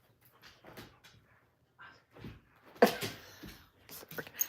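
Dog playing with a cat toy indoors, giving soft scattered rattles, scuffs and thumps that grow busier toward the end, faint and close by.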